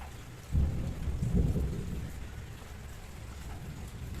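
Steady rain pours down while a heavy roll of thunder rumbles in near the start and slowly fades, leaving continuous rainfall alone with no talking.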